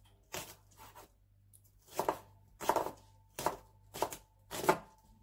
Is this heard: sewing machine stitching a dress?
no